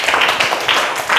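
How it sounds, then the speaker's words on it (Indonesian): A class applauds a student group in an Indonesian classroom lesson: a short, dense patter of many hands clapping close by, steady for about a second. "tepuk tangan untuk kelompok persegi"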